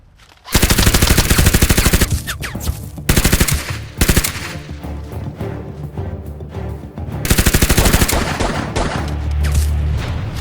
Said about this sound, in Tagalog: Ba't ka bumaril agad?